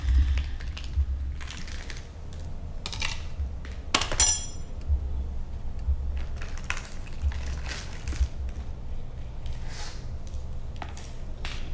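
A sharp kitchen knife cuts food into strips for lasagna, making faint, scattered clicks and taps on a board over a quiet background, with one louder clatter partway through.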